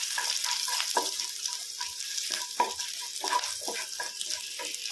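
Two dried red chillies, broken up and dropped into hot oil, sizzle in a steady close crackle, with scattered clicks and scrapes of stirring on top and no voices.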